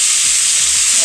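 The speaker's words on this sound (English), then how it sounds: "And then you're just going to stir it all together." Leftover pot roast stir fry sizzles steadily in a hot pan, a dense continuous hiss filling the short moment while it is stirred, with faint scraping underneath and no voices.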